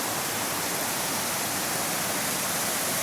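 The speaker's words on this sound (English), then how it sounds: "just when you think you've seen everything a waterfall can do, you just see one like this" Proxy Falls, a waterfall in Oregon, roars as a steady, dense rush of falling water that fills the whole clip, loud and unbroken, with no voices.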